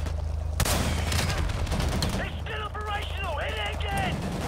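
Gunfire in Call of Duty Modern Warfare Remastered, rattling bursts with a sharp shot near the start over heavy battlefield rumble, with chirping game tones and a voice talking over it.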